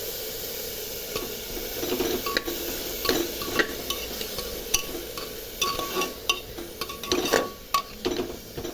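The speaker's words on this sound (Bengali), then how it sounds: "এখন এর মধ্যে এই যে আদা আর রসুন বাটাটা দিয়ে দিচ্ছি" Ginger and garlic paste stirred into a pot of chicken soup base, a soft sizzle under scattered spoon scrapes and metallic clinks against the pot, fairly quiet and close.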